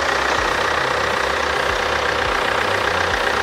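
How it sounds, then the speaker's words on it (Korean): Hyundai Santa Fe The Prime 2.0 diesel, 2WD, idling with its engine bay open: a steady, even diesel rumble with a regular ticking knock, close and constant throughout. "엔진 소리 일정하고 좋습니다."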